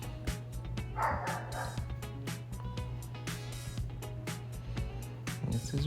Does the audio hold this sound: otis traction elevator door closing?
no